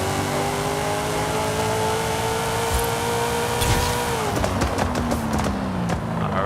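A Chevrolet K10 truck engine revving hard on a drag run in Forza Horizon 5, holding a high droning pitch, then dropping as revs fall, with tire noise and clatter near the end; no talk.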